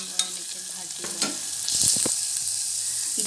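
Pumpkin sizzling in a hot pan while being stirred for a vegetable dal, with a few clunks of the spoon against the pan and the frying hiss swelling louder in the second half.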